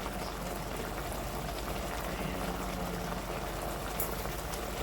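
Pot of veggie chili with parsley simmering down, a constant low bubbling and burbling that stays even and close throughout, with no one talking over it.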